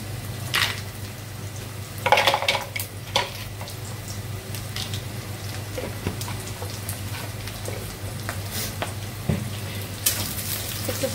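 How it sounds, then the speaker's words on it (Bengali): Onion and garlic sizzle steadily in mustard oil, a soft continuous crackle with occasional sharper spatters and stirring scrapes over a low hum, close and moderately quiet. "পেঁয়াজ রসুন সরিষার তেল দিয়ে একটু ভেজে নিচ্ছে"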